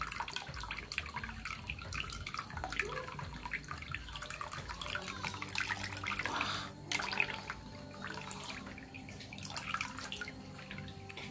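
Young coconut water pouring into a bowl, a continuous close trickling and splashing of liquid with dripping, moderate in level and heard alone.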